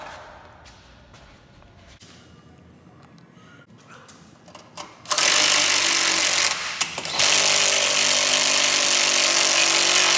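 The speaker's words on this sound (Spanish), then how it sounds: "Vamos a apretar con un dado 17." A bolt on a Jeep JL rear suspension lift kit is tightened with a 17 mm socket. Quiet workshop clatter comes first, then loud, steady whirring from a power tool for the last five seconds, broken by one brief pause.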